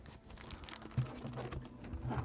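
Vintage Pokemon Expedition cards fresh from booster packs being shuffled by hand, a close, steady run of papery crinkling and soft riffled flicks lasting a couple of seconds with no talk over it.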